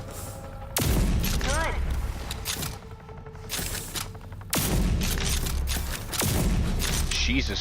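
Heavy video game gunfire with several loud bursts of shots and booming impacts, punctuated by mechanical weapon noises and a short spoken word.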